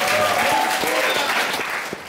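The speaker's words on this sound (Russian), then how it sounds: "Это аплодисменты художникам и гримерам." An audience at a historical quiz stand-up comedy show applauds, a dense, loud burst of clapping from a crowd that holds steady for about two seconds before easing off.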